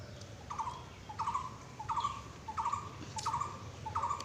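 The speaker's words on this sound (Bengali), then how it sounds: "কি সুন্দর পাখি ডাকছে।" A bird calls repeatedly outdoors on an afternoon, six evenly spaced short rippling phrases at moderate distance over a low steady background hum.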